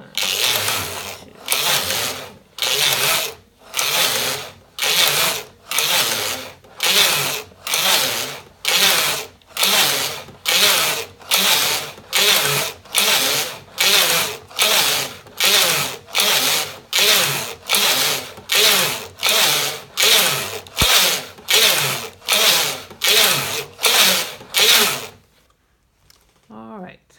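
Hand-cranked sock knitting machine working through rows with tension slightly raised, loud rhythmic clacking bursts repeating about once per second for around 25 seconds before stopping, alone with no talk.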